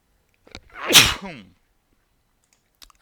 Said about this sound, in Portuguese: Desculpe, espirrei.